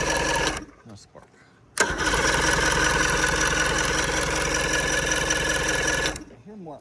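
A 1983 Johnson 140hp outboard motor being cranked over with a fault in its ignition coils: a steady, loud, continuous mechanical churning after a brief start and stop, running for several seconds before cutting off.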